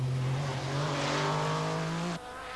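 A Porsche rally car drives a stage of the 1984 Circuit of Ireland Rally, its engine holding a loud, rising tone before cutting off abruptly near the end.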